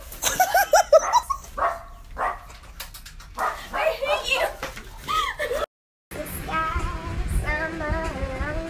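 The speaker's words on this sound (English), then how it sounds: "the dogs are coming" Dogs bark, yip and whimper close by in excited bursts, interleaved with people talking. After a brief silent gap, high whining and whimpering continues alongside more speech.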